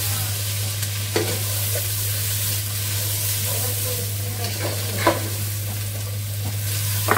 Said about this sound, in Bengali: এই সেমাই না অনেক ভাজ হয়, একটু হ্যাঁ, একটু কড়া ভাজা এটা।